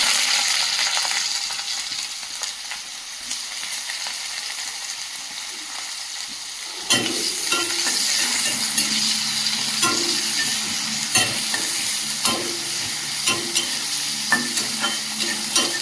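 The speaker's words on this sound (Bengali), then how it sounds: "কড়াইতে দিয়ে দেবো পেঁয়াজ কুচি" Chopped onions frying in a hot wok, a steady hiss that grows louder midway, with repeated scraping and clinks of a spatula stirring.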